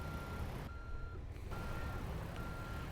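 Video game truck backing a trailer, its reversing alarm giving steady high beeps over a low engine rumble.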